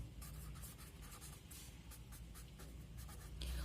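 Marker or chalk writing numbers on a board during a decimals maths lesson, a steady scratchy scrawling with short repeated strokes, close and continuous against a hissy room background.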